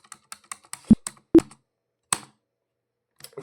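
Sharp keystrokes on a computer keyboard while working in Tally Prime accounting software, a quick run of light taps with a few louder, heavier presses like the Enter key, close and clear with no talk.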